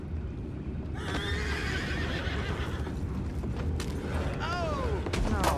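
Horses in the video game Red Dead Redemption 2 give a loud whinny, then several shorter neighs over a steady rumble of hooves and movement.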